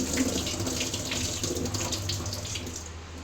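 Cut tapioca pieces being washed in running water in a kitchen, a steady close splash of the flow with light sloshing, and no talking.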